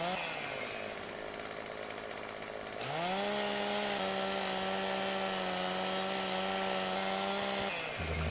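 A chainsaw in the video game Farming Simulator 15 revs up and cuts through wood, a loud, steady, close engine whine holding for several seconds before dropping off at the end.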